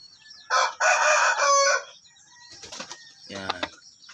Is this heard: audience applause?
no